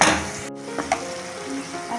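Rinse water from a sauce bowl hits a hot pan of chili drumsticks, giving a loud close sizzle that cuts out briefly and then carries on as a steady crackle with a few soft pan clinks, and no talking.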